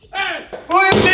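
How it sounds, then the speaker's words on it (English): A house door slams shut with a sharp, loud bang, followed by a second thud, between raised, angry voices talking close by. "Who you think you are slinging the door on me, boy?"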